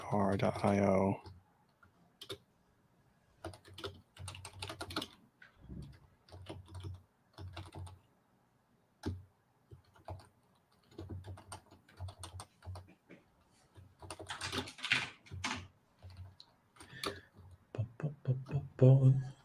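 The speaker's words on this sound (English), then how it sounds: "it's like hard to like show anything on screen when you're like typing in passwords" Passwords being typed on a computer keyboard, heard as irregular bursts of quiet clicking key presses with pauses between runs, close and fairly soft, with a person speaking now and then.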